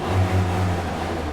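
A street kart engine started up by pressing the accelerator a couple of times settles into a steady, low idle hum, close and fairly loud, with no talking.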